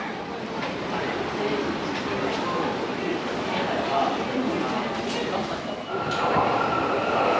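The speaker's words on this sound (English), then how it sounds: "The train bound for Ueno and Tokyo will soon arrive on track number 1" A train pulls into a station in Japan on a line bound for Ueno and Tokyo, a loud, steady rumble of wheels and cars with faint squeals, a station announcement voice mixed in.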